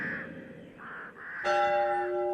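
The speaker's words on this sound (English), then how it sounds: "I can hardly hear myself think with that bell you've got entangled with." A bell is struck once partway through, ringing out loud and close with a bright sustained tone after a quieter stretch of indistinct background sound.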